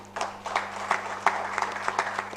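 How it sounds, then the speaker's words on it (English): Scattered clapping from a conference audience at an HR conclave, a handful of distinct claps rising and falling at a moderate distance over a steady low hum. "So a big clap for them too."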